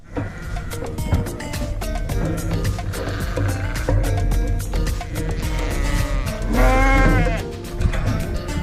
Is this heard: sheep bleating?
yes